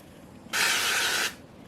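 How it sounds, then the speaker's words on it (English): A single short hiss of avocado and olive oil cooking spray goes into the bottom of an Instant Pot, a close, even burst under a second long against a quiet kitchen. "I'm just going to use a little bit of this and spray in the bottom of the Instant Pot for the chicken"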